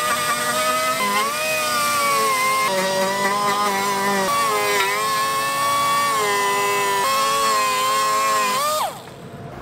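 A power sander works on a Cirrus SR22 aircraft wheel fairing, giving a loud, continuous motor whine whose pitch dips and recovers several times before it winds down and cuts off at the end.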